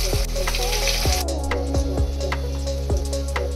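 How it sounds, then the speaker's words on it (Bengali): Marinated, bread-crumbed prawns for crispy pakora fry in hot oil with a steady, loud sizzle and crackle, punctuated by a few sharp knocks and clinks at regular intervals, no voices. "এবার তেলের মধ্যে এই চিংড়ি মাছটা আমি ছেড়ে দেবো।"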